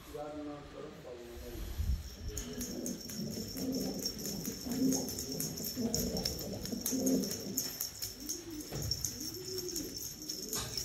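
Pigeons coo repeatedly at a pigeon coop in a hidden valley in Hatay, Turkey, with a steady chorus of rolling coos and some hissing, near and moderately loud, while someone talks over part of it.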